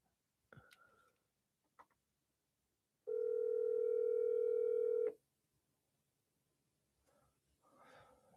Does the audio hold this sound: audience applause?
no